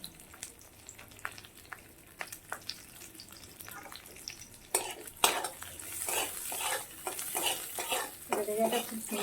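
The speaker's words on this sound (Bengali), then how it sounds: "সিমলা মির্চটা একটু হালকা করে ভেজে নিতে হবে, বেশি ভাজবো না, একটু হালকা করে এটাকে ভেজে নেব।" Capsicum frying lightly in a pan for chicken kosha, with a soft sizzle and a spatula scraping and clinking against the pan, growing busier and louder in the second half, no voices.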